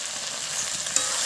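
Fish curry masala with salt sautéing in a pan gives a short burst of sizzling and stirring scrapes, close and fairly loud, with no voices.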